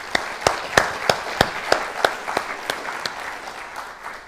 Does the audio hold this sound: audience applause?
yes